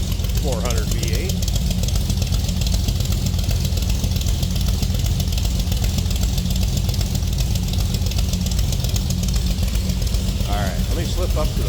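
A cammed 400 V8 in a 1971 Chevrolet Nova sedan idles loudly and steadily with a lumpy, knocking rhythm, while someone talks briefly over it at the start and end.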